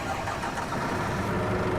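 A bus engine in The Bus simulator game cranks and starts, then settles into a steady low rumble, fairly quiet and heard alone.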